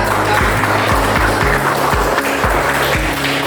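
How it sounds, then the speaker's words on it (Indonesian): Classroom applause for a student group, a dense, loud clapping that fills the whole stretch without pause. "tepuk tangan untuk kelompok 3"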